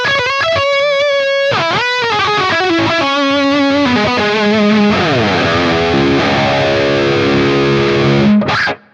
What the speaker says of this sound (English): here's some lead tones real quick with the full-on humbucker and then with the split sound.